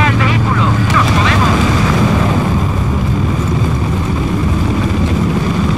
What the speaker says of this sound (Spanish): Este es el helicóptero